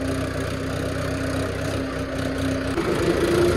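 A farm tractor's engine idles steadily and close by, a continuous low chugging drone that rises slightly toward the end.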